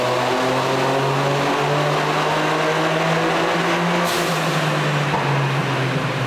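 A Toyota GR Yaris strapped to a dyno holds a loud, sustained engine drone with steady harmonic tones, pitch shifting slightly as it runs, with a burst of high hiss midway.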